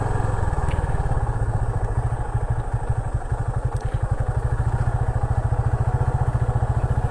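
A motorcycle engine runs steadily near a riverbank in Belari, its low, even chugging pulse holding the whole time with no talk over it.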